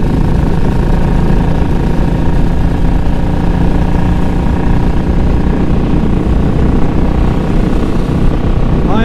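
A Triumph Bobber Black motorcycle engine roars at full throttle, a loud, continuous low rumble heard close up from the rider's position while riding in Central Florida.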